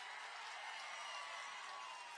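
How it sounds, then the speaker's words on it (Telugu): A crowd applauds at an open-air Telugu Desam Party Prajagalam rally in Anantapur, a continuous wash of clapping that holds steady and fairly soft throughout, with no voices over it. "గట్టిగా చప్పట్లు కూడా చెప్పండి సిద్ధపడితే"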